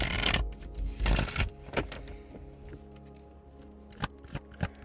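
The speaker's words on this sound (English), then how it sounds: "Let's do one more shuffle." Tarot cards shuffled by hand, with a dense riffling burst near the start, another midway, then a few soft isolated card taps toward the end.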